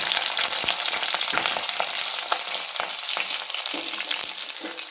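Green chillies sizzle steadily and loudly in hot oil, with small pops and crackles throughout and no voices.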